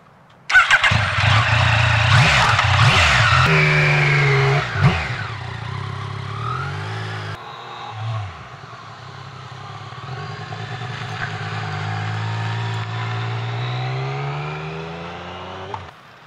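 A motorcycle slows for a corner dusted with sand on the road: the engine note drops through downshifts and eases off, then settles into a steadier, quieter drone as the bike rolls through the bend.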